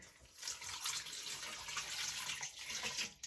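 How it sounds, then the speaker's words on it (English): Two cups of warm water pour steadily onto white sugar in a bowl, a continuous close splashing stream that runs for a few seconds before cutting off. "On top of that, I'm gonna put 2 cups of warm water."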